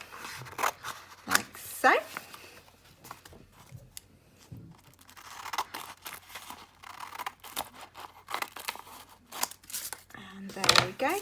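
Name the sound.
cutting out a printed design with scissors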